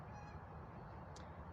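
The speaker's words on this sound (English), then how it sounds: "there's some really beautiful Canadian geese flying by right now. You can probably hear them." Canada geese honk faintly as they fly over outdoors in Eugene, Oregon, a few distant calls against a soft, steady background.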